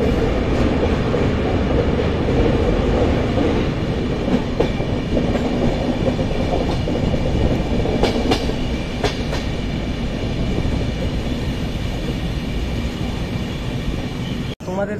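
The 12124 Deccan Queen Express running from Pune to Mumbai, heard from inside an AC chair car: a loud, unbroken rumble with rattling clicks, then a sudden brief dropout near the end.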